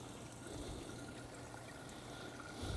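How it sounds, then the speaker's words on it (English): Small backyard garden water feature trickling steadily outdoors, a soft continuous splash and dribble of water at close range with no voices. "they've got themselves a little water feature"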